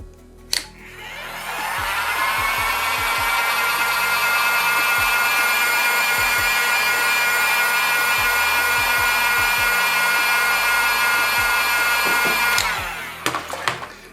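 A heat gun set around 150 degrees blows hot air onto the camera glass of a Samsung S21, a loud steady whooshing hiss with a faint tonal whine that holds for about twelve seconds, then cuts off amid a few handling clicks.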